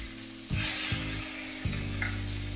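Pangasius fillet sizzling in a hot pan just after being turned, the frying swelling louder with a few dull pan knocks, no talk.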